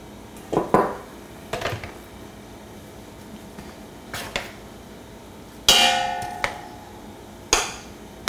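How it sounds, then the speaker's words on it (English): Roasted charred bones, ginger and onions dropped one after another into the metal inner pot of an 8-quart Instant Pot, giving several loud clanks and clattering knocks spread across the stretch, with no talking. "we'll add it to the inner pot of the Instant Pot"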